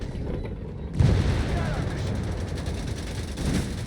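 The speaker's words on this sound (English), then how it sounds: "Pushing back those Panzer Grenadier with a few well-placed shots" Gunfire crackles in the Company of Heroes 3 strategy game, with a sudden loud burst of shots as Panzer Grenadiers are pushed back, followed by a dense, continuing battle rumble.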